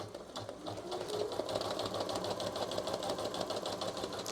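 A Janome Memory Craft 1000 embroidery machine stitches steadily at close range, a fast, even mechanical patter with a rhythmic needle beat running throughout.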